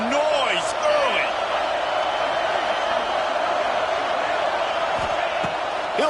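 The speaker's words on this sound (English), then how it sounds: "This crowd bringing the energy and noise early" A stadium crowd in the College Football 26 video game sends up a steady, dense roar that fills the whole stretch, loud and unbroken beneath a play-by-play commentator's voice.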